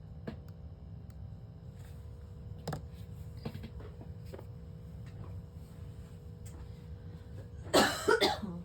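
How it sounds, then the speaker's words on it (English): Scattered faint coughs and throat noises over a quiet background, ending in a louder burst of several close coughs. "I just can't quit coughing today"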